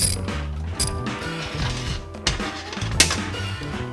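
Rapid ratchet clicks from a ratchet with a 10mm socket tightening front brake kit bolts on a Mega Moto 80 mini bike, in quick bursts up close with sharper snaps near the end.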